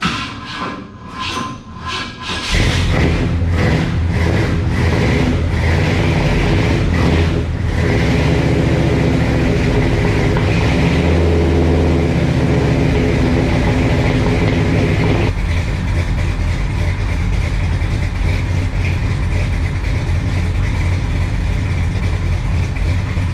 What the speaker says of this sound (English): I'll start up the truck first